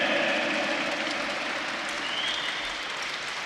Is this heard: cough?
no